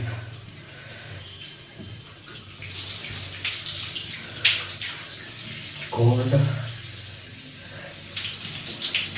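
Hot water gushes steadily from a tap into a bathtub, a loud continuous splashing rush that swells in places, with a person speaking briefly over it.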